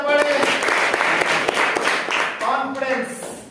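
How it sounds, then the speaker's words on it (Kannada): A classroom quiz show for eighth-grade students breaks into loud, dense applause from a group clapping together, sustained for a few seconds before tapering off, with voices faintly mixed in. "ಜೋರ ಚಪ್ಪಾಳೆ."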